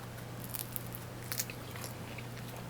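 A bite into a crunchy fried nugget, a soft close crunch and chewing sounds, quiet and without talk.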